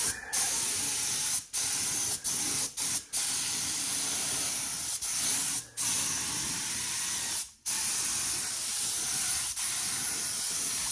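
A paint sprayer set to about 500 psi hisses continuously up close while painting an old 1970s Mercedes, a loud steady spray interrupted by several brief pauses where the trigger is released.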